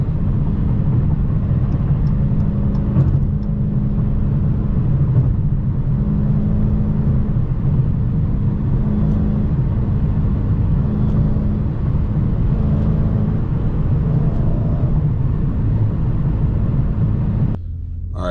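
A Dodge Charger 392 Scat Pack with its naturally aspirated engine rumbling steadily under launch control, a continuous loud low drone with a faint whine, uninterrupted for about seventeen seconds before a brief change at the end.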